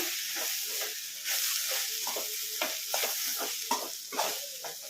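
Garam masala fries in a pan for hotel-style keema sambar, a soft sizzle under repeated scraping stir strokes, fairly quiet and without speech.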